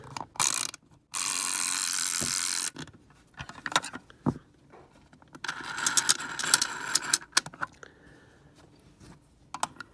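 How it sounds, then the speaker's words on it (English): A vintage Kenner Building Blaster toy is wound up, giving close ratcheting clicks and one sustained grinding whir, with bursts of gear clatter between short pauses. "So I guess I'll wind it a little bit more."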